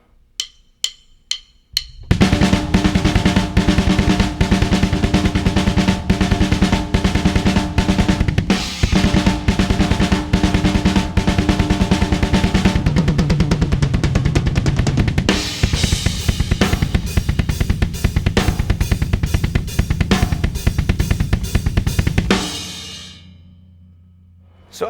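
A drummer's kit plays the intro of a song along with the band track, opening with a few sparse hits before loud, dense drumming with rapid kicks and crashes that builds and then rings out into a fading cymbal wash.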